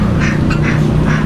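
Ducks quack at a Pampanga roadside spot near Mount Arayat, several bursts in steady succession, fairly close and loud over a constant low hum.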